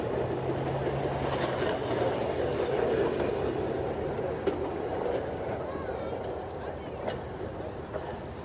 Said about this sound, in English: with Alan from Revenge of the Apocalypse to get my first look at the speeder cars.